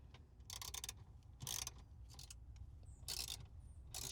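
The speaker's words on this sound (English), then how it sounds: "I have a ratchet, an extension, and a 10mm socket. Let me get those loosened up." A ratchet with an extension and 10mm socket loosens bolts inside a 2001–2005 Honda Civic dashboard, making quick runs of faint clicking in several short bursts, close but quiet.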